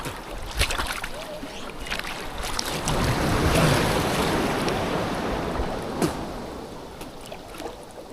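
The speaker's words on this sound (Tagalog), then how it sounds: "Lakas lang alon!" Strong ocean waves roll and wash against the seashore, rising to a loud surging peak midway, with steady wind noise buffeting the microphone throughout.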